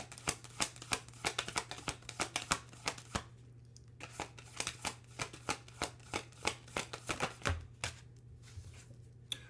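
Tarot cards being shuffled up close in a steady flurry of sharp riffling snaps, dense and rhythmic with a brief pause midway, over a faint low hum.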